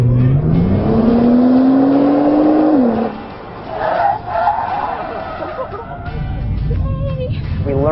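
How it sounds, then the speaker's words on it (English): A car revs hard with rising engine pitch during a stopping-distance test, then drops off abruptly as it brakes, followed by rumbling and tire noise; loud and close, with no talk. "I'm going to gun it as fast as I can and then slam on the brakes"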